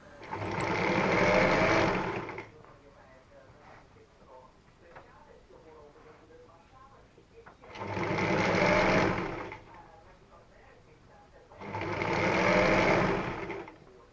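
A sewing machine stitches a bias-cut strip of raincoat fabric for a patchwork rug, running in three loud, steady whirring bursts of a few seconds each, with quieter pauses and someone talking between runs.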